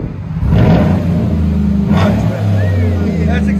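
Chevy Silverado 2016 pickup with a 5.3L V8 and Flowmaster Outlaw dual exhaust, revved up loudly and held at a deep, steady rumble close by, with voices talking over it.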